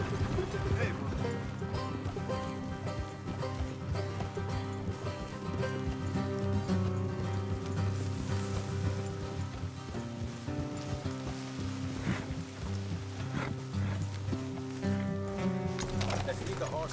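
Horses being ridden in the Red Dead Redemption 2 video game, hooves clip-clopping steadily beneath ongoing character dialogue, with rain falling throughout.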